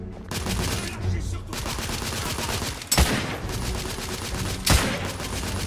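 Rifle fire in The Order: 1886 builds a steady, heavy fusillade of overlapping shots, punctuated by two louder close blasts that stand out above the constant gunfire.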